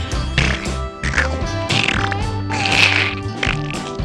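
A fart sound is imitated with a hand, producing loud, buzzy, sputtering bursts close up, repeated several times in quick succession.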